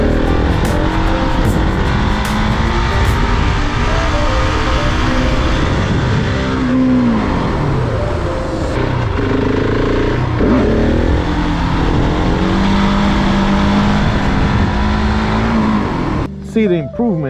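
Motorcycle engine pulling hard in third gear while scouting a stunt lot, a loud, continuous rising roar with shifting pitch close to the microphone, a voice talking over it throughout.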